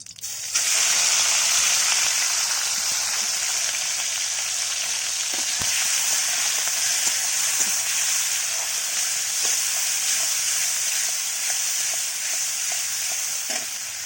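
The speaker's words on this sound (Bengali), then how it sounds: "তেল দিয়ে মাছগুলো হালকা করে ভেজে নেব" Small shrimp sizzle and crackle steadily in hot oil in a pan, a loud continuous frying hiss with faint stirring scrapes throughout.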